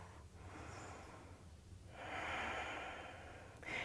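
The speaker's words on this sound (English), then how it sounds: "We take one more breath." A deep breath during yoga practice: a soft nasal inhale, a brief pause, then a longer, fuller exhale, quiet and close, ending with a short sharper sniff.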